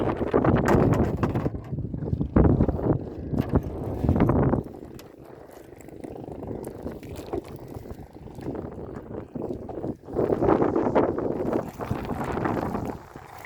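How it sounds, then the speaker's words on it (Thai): Strong wind gusting along a seashore while a fishing net is hauled in, a rough, roaring rush that swells and eases in waves, buffeting close to the microphone with no talking. "ตอนนี้ลมแรงแล้วเนี่ยลมฟิวเลยดู"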